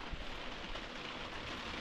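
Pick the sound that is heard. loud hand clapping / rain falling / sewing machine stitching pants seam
rain falling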